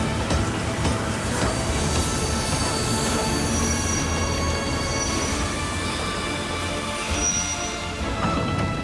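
Train pulling into Stuttgart station, a continuous rumble of railway wagons with squealing wheels and metallic clatter, loud and steady throughout with no voices.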